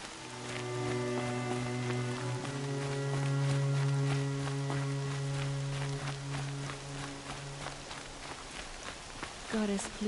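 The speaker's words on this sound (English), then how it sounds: "More rain." Rain falling in a video game, a soft continuous patter with scattered drop-like ticks running under sustained musical tones, with speech present at times.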